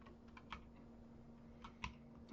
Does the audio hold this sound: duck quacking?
no